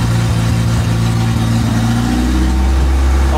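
A 1992-1995 Honda Civic engine runs steadily at idle, a loud, close, continuous low rumble with a slight lift in pitch toward the end, and no voices over it.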